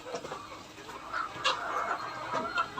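Soft, scattered clucking from several free-range layer hens, a low busy murmur at moderate distance with no talking.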